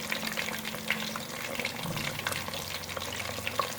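Gram-flour-coated fish pieces, Lahori besan style, fry in hot oil over a medium flame, giving a steady close sizzle scattered with small pops and bubbling.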